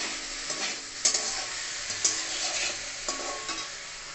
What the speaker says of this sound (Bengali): এই যে ঢ্যাঁড়স ভাজা বসিয়ে দিয়েছি